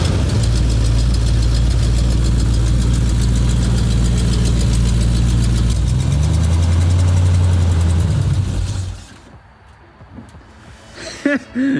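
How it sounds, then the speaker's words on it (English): A car engine with an exhaust leak idles steadily and loudly, with a rough, raspy exhaust note, then shuts off, leaving quiet rustling and a few clicks. "Got a bit of an exhaust leak."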